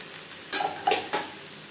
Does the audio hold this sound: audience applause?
no